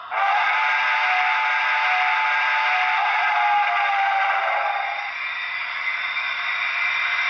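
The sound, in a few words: model locomotive steam whistle sound effect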